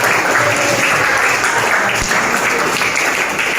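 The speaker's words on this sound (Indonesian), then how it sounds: "Kita kasih tepuk tangan." Schoolchildren in an Indonesian classroom clap for the best student groups, dense and loud sustained applause lasting several seconds, close to the listener and without talk over it.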